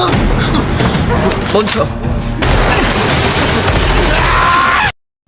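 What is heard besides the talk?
gunfire in a shootout, from a Squid Game recap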